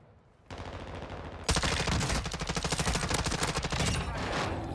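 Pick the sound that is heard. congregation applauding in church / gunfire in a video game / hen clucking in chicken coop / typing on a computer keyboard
gunfire in a video game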